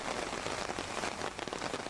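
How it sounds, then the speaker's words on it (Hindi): Heavy rain pours steadily during a cloudburst in Ramban, Jammu and Kashmir, a dense, continuous hiss of downpour drumming on surfaces with no voices. "बारिश ऐसी थी कि रुकने का नाम ही नहीं ले रही थी"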